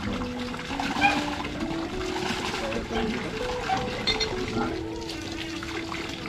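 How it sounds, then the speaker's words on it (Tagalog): Water runs and splashes from a newly installed faucet at a house, a steady moderate trickle heard beneath people talking. "Amo na ang gripo."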